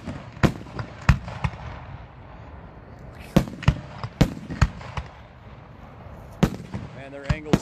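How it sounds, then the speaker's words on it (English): Fireworks finale chains at a charity show, a string of sharp, booming bursts spaced irregularly over a low crowd murmur, some loud and near, others softer and more distant, with faint whistling near the end. "Now their finale chains are getting lit."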